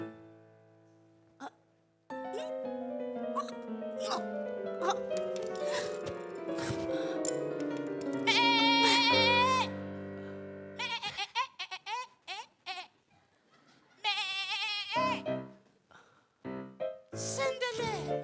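Goat-like bleats in a Filipino TV comedy sketch about a character turned into a goat, coming as several wavering, nasal cries over a background of music and other voices.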